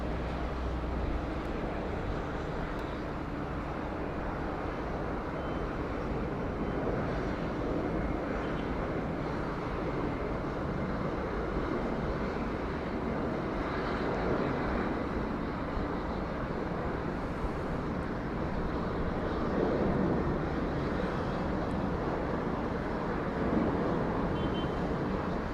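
Jet engines roar steadily as an airliner climbs away just after takeoff from Sydney Airport, a broad continuous rumble that swells slightly toward the end, heard alone without speech.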